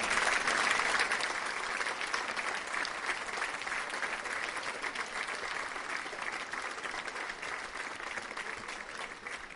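An audience at a gathering in Poissy applauds loudly and steadily, a dense close burst of clapping that fades slightly over several seconds.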